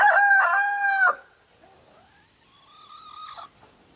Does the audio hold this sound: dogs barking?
no